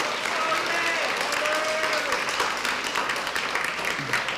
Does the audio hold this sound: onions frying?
no